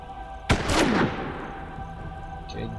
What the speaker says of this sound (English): You shoot the cultist.